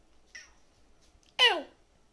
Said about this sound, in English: It's not even like a real meow.